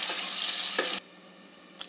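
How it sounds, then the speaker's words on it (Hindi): Onions fry in a pan for vegetable pulao, a loud hissing sizzle with a light stirring scrape for about a second before the sound drops to a faint background hiss with a small click near the end. "प्याज को भी हम सुनहरा होने तक भून लेते हैं।"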